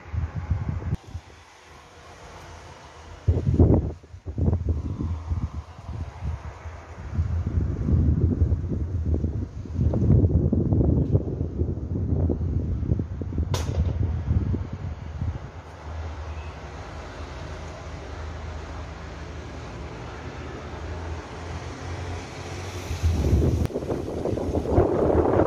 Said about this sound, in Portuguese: Vocês não fazem ideia da ventania que tá aqui dentro